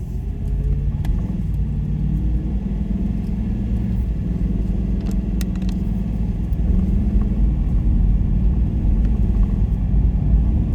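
A vehicle nicknamed the Godzilla cruises in sixth gear along scenic North Carolina 28 near Fontana Lake, its engine a steady loud low rumble with road noise, holding constant revs throughout without speech.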